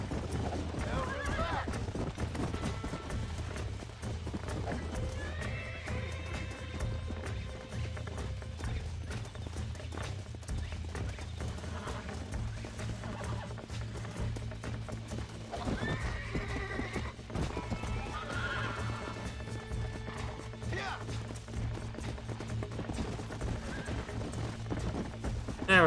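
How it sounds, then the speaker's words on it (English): Horse hooves clip-clop steadily in the Red Dead Redemption video game, a continuous rhythmic trot under occasional talk, with a neigh or two. "Oh no, the horse continues."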